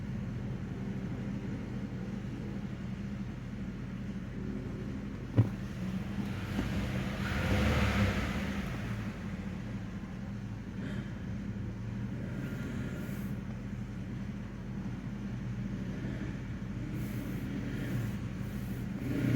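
A Ford Taurus engine idles steadily after repair with a low, constant rumble, close by, with a brief swell midway and no talking.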